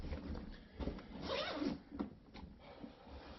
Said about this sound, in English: I find that the zipper generally works pretty well.